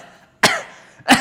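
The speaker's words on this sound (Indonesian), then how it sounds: "kenapa kok batuk tiba-tiba ya?" A sudden loud cough bursts out alone in a quiet room, followed a moment later by a second shorter cough.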